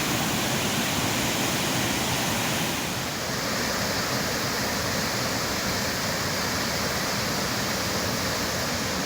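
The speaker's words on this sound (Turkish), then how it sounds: "Arkamda görmüş olduğunuz şelale tüm güzelliğiyle akmaya devam ediyor." Canikdere waterfall in Tonya, Trabzon, pours with a loud, continuous broadband roar of rushing water, close and steady throughout, with no voices heard.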